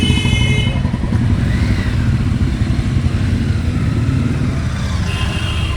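Royal Enfield Bullet motorcycles ridden by eight young men set off from Ajmer's Agra Gate Ganesh temple, their engines giving a steady, loud, close rumble with no pauses.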